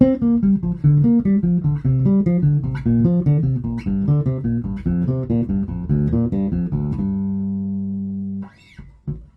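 Bass guitar plays a quick pentatonic scale run in five-note groupings, in an even, steady rhythm, ending on a sustained low note that rings briefly.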